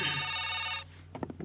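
Telephone ringing on a call-in radio show, a steady electronic ring close and clear, then cut off as a voice starts speaking.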